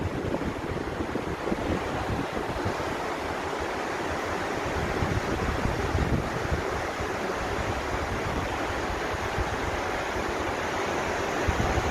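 Surf washes steadily onto a beach below a hotel room, heard as a continuous broad roar of breaking waves with wind buffeting the microphone throughout.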